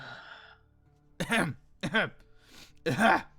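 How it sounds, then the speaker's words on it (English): Three rough throat-clearing bursts, close and fairly loud, spaced apart after a quieter noisy stretch. "It's just clearing my throat."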